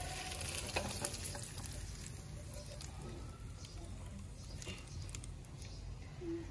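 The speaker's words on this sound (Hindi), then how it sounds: "अंडे को मुझे 1 मिनट तक फ्राई कर लेना है, भून लेना है।" Eggs fry in oil in a kadhai for a dhaba-style egg masala, giving a soft, steady sizzle and patter with occasional stirring, close but fairly quiet.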